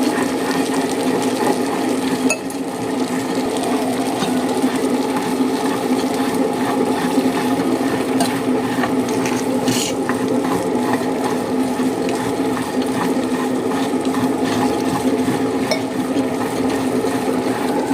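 A wet grinder churns soaked urad dal with salt and a little water into batter, a steady, unbroken mechanical whirr with a faint rhythmic grinding clatter, close and constant throughout.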